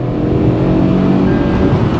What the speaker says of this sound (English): slotting it in first gear, and now getting the revs climbing